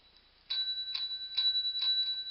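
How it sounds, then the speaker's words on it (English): A Yorkshire terrier rings a small bell four times in an even rhythm, each bright metallic ding ringing on and overlapping the next, close and clear with no talking. "Minnie, ring the bell four times"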